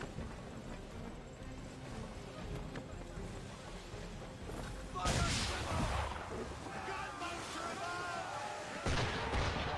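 Cannon and gunfire aimed at a ship in the Assassin's Creed 3 video game thud in the distance over a constant wash of sea and ambient noise, with a couple of louder blasts breaking through.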